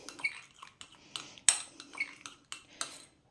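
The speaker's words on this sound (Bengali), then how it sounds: "এই টমেটোর মেয়োনিজটাকে আমি এমন করে মিশিয়ে নিলাম।" Tomato sauce and mayonnaise being stirred together in a bowl for an egg sandwich, heard as a series of light, close clinks and scrapes of a utensil against the bowl in an irregular rhythm, with no talking.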